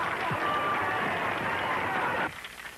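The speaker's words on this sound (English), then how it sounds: "The enthusiasm, the tense and expectant crowd." Expectant crowd applauding at the finals of a newspaper's happy-homes contest in a 1936 film: dense, steady clapping and crowd noise fill the scene, then cut off abruptly near the end, leaving quieter murmur.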